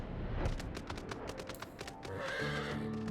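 A horse mount in Final Fantasy XIV whinnies in a loud, shaky neigh, with clopping hooves and a steadier game tone near the end.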